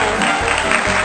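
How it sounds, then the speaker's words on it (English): A brief, loud burst of audience applause rises on a children's show about a handyman and a water-skiing squirrel, close and dense but lasting only about a second. "Give her a round of applause."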